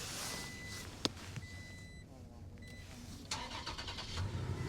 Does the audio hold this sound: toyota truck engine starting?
yes